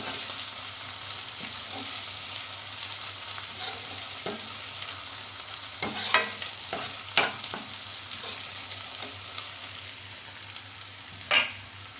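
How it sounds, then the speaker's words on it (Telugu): Ingredients sizzle in a hot pan over steady frying hiss while a spoon stirs, with intermittent scraping clinks and a few louder knocks against the pan, close and without talk. "ఇది కొంచెం పచ్చివాసన పోయే వరకు వేగనిద్దాం"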